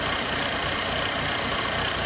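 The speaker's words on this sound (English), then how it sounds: "So I'm just gonna go stop the engine and then I can fix the leak." A Mercedes-Benz C250 engine with an oil leak runs steadily at idle, a loud, even broadband hum with a constant high whine, close and uninterrupted, with no talking.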